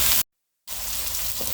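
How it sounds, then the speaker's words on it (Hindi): Egg-stuffed meatballs fry with garlic ginger paste in a pan, giving a steady close sizzle that cuts out for a brief silent gap and then resumes at an even level. "अब मैं इसमें तकरीबन 1 टेबलस्पून लहसुन और अदरक का पेस्ट डालूँगी और इनको मैं 1 से 2 मिनट के लिए अच्छी तरह से इसमें भूनूँगी"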